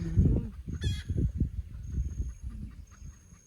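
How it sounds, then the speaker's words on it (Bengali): A chicken clucking outdoors on a hillside, a short run of low throaty clucks close by, with a brief higher squawk and faint insect buzz in the background. "যে একটা মুরগি দেখা যাইতেছে"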